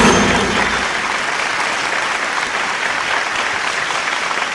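Sustained audience applause at a televised Bhojpuri music competition show, a dense, loud wash of clapping that starts strong and holds steady throughout with no talk over it.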